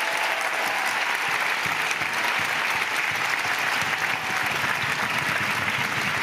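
Political rally audience applauding its ecologist mayors, loud sustained crowd clapping that fills the whole stretch with a few brief dips, some cheering voices mixed in.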